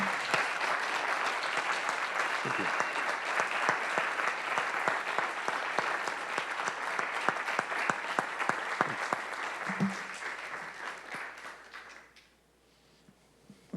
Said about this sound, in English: give Erwin a big round of applause for this really beautiful series of lectures